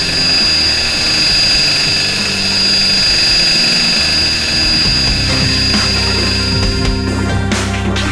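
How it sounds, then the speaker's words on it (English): A Husqvarna K760 petrol power cutter running on OilGuard oil mix screams at full revs, a loud steady high-pitched engine whine that shifts slightly toward the end, with no talking. "This allows the machine to no longer limit its revs per minute and instead run with full effect."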